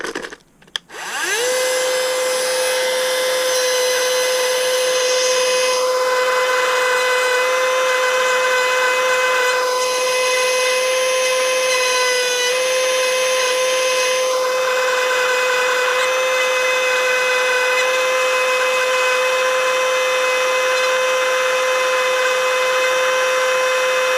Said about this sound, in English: Always wear hearing protection, of course, with your Dremel, because this can get kind of loud.